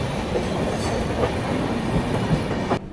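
The Coromandel Express runs on rails, giving a loud, steady rumble with rhythmic clickety-clack from the wheels and faint squeals, all heard up close without any voices.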